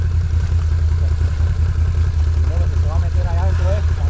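A motorcycle engine idles in a steady, low, continuous rumble on an off-road water trail, with voices briefly talking over it near the end.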